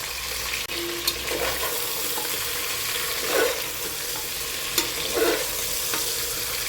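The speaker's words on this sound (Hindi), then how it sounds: "तो चलिए हम इसको भूनते हैं बहुत अच्छी तरह से।" Mutton sizzles steadily in a hot pan over high heat, a constant crackling hiss with a few scraping stirs and clinks from a utensil.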